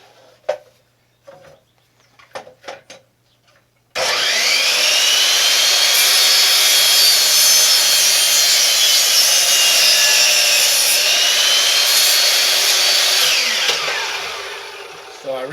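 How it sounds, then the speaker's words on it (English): A miter saw trims the top off a wooden wedge, with a few light clicks and knocks first, then a loud, steady whining cut lasting about ten seconds before spinning down. "So I use my miter saw for that too."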